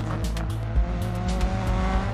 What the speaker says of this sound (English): you need to hold the handbrake while you build up your engine revs, then release it when it's time to go